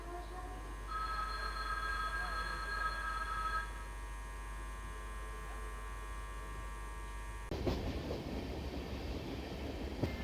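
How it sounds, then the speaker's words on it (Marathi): Train 10116, the Madgaon–Bandra Terminus superfast express, goes by on the Konkan line near a station, a low steady rumble under a mains-like hum with a faint bell tone, then a louder rush of wheels and wind as it nears. "गाडी येत आहे, गाडी number 10116 Madgaon Bandra terminus superfast express"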